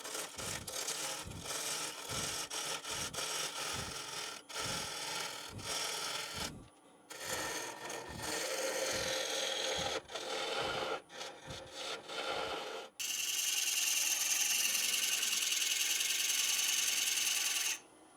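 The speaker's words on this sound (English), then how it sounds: "we'll start with the 5/8 bowl gouge" A 5/8 bowl gouge cuts a large wooden bowl spinning on a lathe at around 600 RPM, with rapid rhythmic thumping chatter and rasping shavings, then a steadier smooth hiss of continuous cutting near the end, close and loud.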